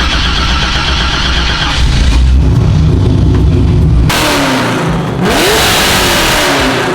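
A BMW E36 wagon engine with the muffler deleted revs hard and loud, rising and falling through throaty, raspy pulls with no talking.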